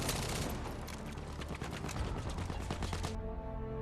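The S2-200 medium machine gun fires a sustained rapid automatic burst in the shooter game Battlefield V, loud and close, then stops abruptly with a brief ringing tail.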